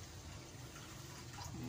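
A small amount of water poured into a bowl of cake batter for Eid cookies, giving a steady soft splashing trickle that stays even and close, with no talking.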